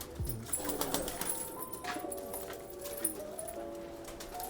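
Pigeons in a loft give soft, low cooing calls, fairly faint and close, with scattered rustling and knocking sounds around them.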